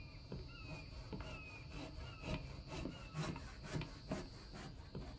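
A saw cutting wooden boards in the video game The Infected: repeated rasping strokes at an even rhythm, fairly faint, with no talk over it.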